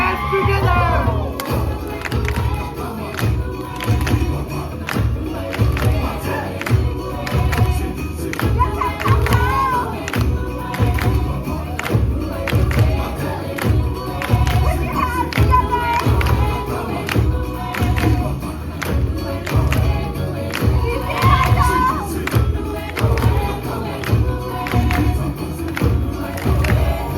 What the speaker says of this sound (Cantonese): Everyone, put your hands together.